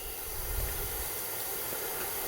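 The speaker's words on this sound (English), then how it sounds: "Can hear the sizzling." Rain-soaked rusty metal on an antique horse-drawn road grader is heated by a Mini-Ductor Venom induction heater, making the water on it sizzle and boil in a close, steady hiss.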